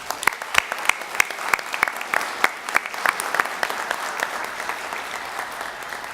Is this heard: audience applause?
yes